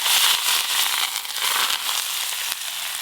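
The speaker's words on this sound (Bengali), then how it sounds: "তেল খুব ভালো করে গরম হয়ে গেছে, এই গরম তেলটা এবার মাংসের ওপরে দিয়ে দেব।" Hot oil poured over marinated chicken for handi chicken, giving a steady, bright sizzle and crackle that holds for the whole stretch without voices.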